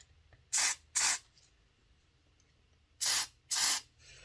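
Aerosol cleaner is sprayed into the gear of a Hornby Silver Seal Black 5 model locomotive: four short, sharp hissing bursts in two close pairs, with quiet gaps between.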